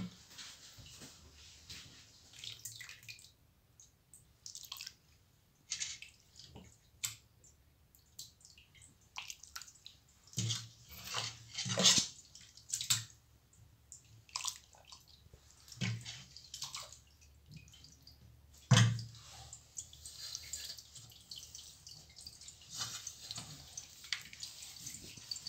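Hot date molasses pulp is squeezed through a cloth into a drainer and pan, producing intermittent wet squelches and trickles of dripping liquid, close and fairly quiet, with pauses between bursts.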